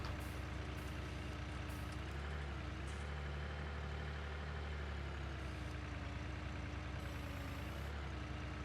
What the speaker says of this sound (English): Continually impressed with this little tractor.